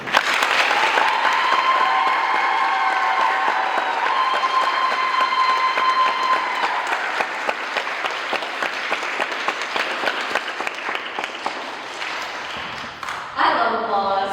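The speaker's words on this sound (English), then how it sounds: "I love applause." An audience at a senior distinction presentation on Commedia dell'Arte applauds steadily for about twelve seconds. The clapping is dense and sustained, then dies away as a voice begins speaking near the end.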